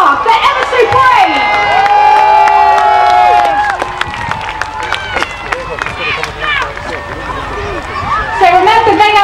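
Outdoor crowd at an RAF Falcons parachute display cheering and shouting with excited children's voices, a busy loud mix of whoops and yells that dips briefly in the middle and rises again at the end.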